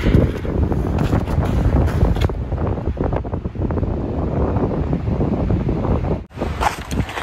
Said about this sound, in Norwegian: Det blåser såpass mye her oppe.